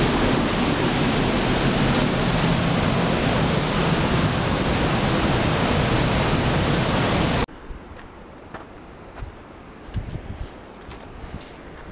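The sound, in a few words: cold river water flowing, Ishim river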